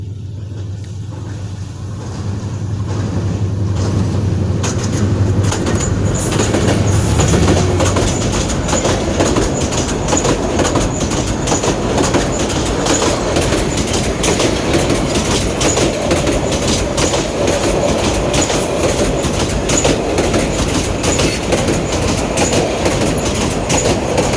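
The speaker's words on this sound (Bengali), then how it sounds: "এই ট্রেন এই মুহূর্তে 771 রংপুর এক্সপ্রেস ট্রেনটি এই দামোদর ব্রিজ পার হয়ে চলে যায় রংপুরের উদ্দেশ্যে" The 771 Rangpur Express train crosses the Damodar bridge, a loud, steady rumble with rhythmic clickety-clack of wheels on the rails that swells in over the first seconds and holds close for the rest, with no talk.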